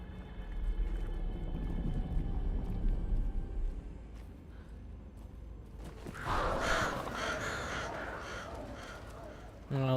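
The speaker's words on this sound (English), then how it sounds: "Oh, the crows." Crows caw in the game Alan Wake 2, a burst of harsh overlapping calls rising loudly over a low rumbling ambience partway through and continuing to the end.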